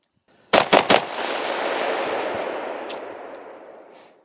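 An AR rifle fitted with a Rise Armament RA 701 muzzle brake fires a quick burst of three loud, sharp shots outdoors, followed by a long rolling echo that slowly fades.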